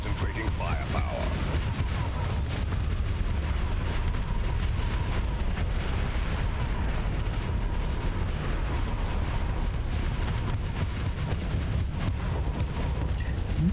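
Spaceship weapons in Starsector, modded with Star Wars content, fire continuously in a dense barrage of rumbling booms and blasts, with a voice talking underneath.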